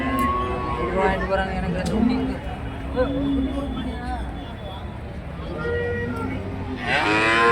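Calves moo repeatedly at a busy cow market in Karimangalam, drawn-out lowing calls rising over the murmur of people talking and crowd noise.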